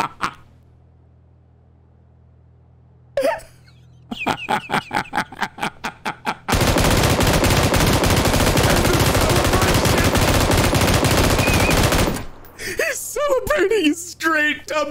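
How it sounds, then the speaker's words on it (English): PUBG gunfire rings out as sharp, loud single and burst shots. A long sustained roar of game action follows, and the shots end among excited voices. "He's on burst fire."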